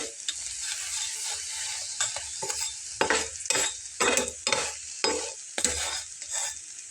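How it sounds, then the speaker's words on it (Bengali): A paratha fries in oil on a pan while being pressed down, so a dense, close sizzle surges in repeated bursts with each press, and a spatula scrapes now and then. "আমি এভাবে লাল করেই ভেজে নেব একটু চেপে চেপে"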